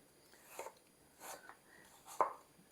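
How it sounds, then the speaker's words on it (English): Apples sliced with a knife for apple preserves, three quiet separate cuts with soft crunches spaced about a second apart, close and faint. "we're just going to slice these up and get them in our bowl over here"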